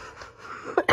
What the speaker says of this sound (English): That cough's still there, but it's gone.